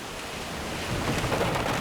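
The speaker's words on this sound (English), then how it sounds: "torrential rain" Torrential rain pours steadily during a severe storm, a dense, loud hiss that thickens partway through, with a low rumble underneath and no voices.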